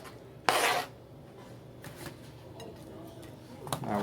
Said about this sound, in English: Just cut them up.